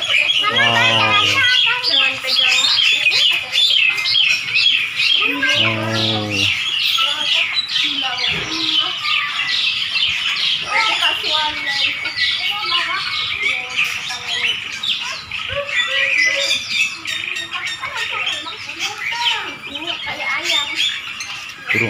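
Birds in a mini aviary chirp, squawk and call continuously and loudly close by, a dense layered chorus, with a few brief voice-like squawks early on.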